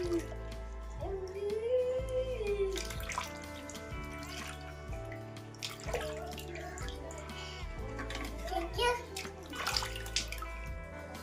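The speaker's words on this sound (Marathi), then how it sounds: "तर आता आपण हे धुवून घेऊया व्यवस्थित." Cucumbers are washed by hand in water, with close splashing and sloshing in irregular bursts and a voice talking faintly in the background.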